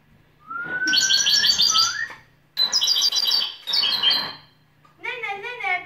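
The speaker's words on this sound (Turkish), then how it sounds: "Kuş gibi ötüyor." Bird-like chirping and warbling trills during a high school theatre play, in three loud bursts with short gaps, followed by a quicker, fluttering run of tweets.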